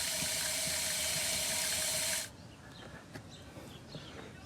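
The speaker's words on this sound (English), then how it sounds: "So this is hot water that I got running" Hot water runs from a tap in a steady loud gush that stops abruptly about halfway, leaving a quiet room with faint scattered clicks and drips.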